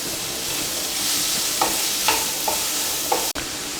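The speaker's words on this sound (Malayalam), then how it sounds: "ഉപ്പിട്ടൊന്ന് പെട്ടെന്ന് വഴറ്റിയെടുക്കാം" Sliced onions with salt sautéing in a pan for Kerala-style egg curry, a loud continuous sizzle broken by a few spatula stirs and scrapes.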